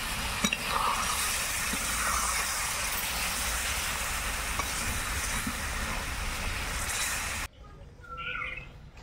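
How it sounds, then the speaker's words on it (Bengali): Mutton curry frying and stirred in a pot as water is added, giving a dense, loud, continuous sizzling hiss that stops abruptly near the end, leaving a quieter background. "মাংস কষানো হয়ে গেছে, এখন এবার জল দিয়ে দিচ্ছি অল্প পরিমাণে।"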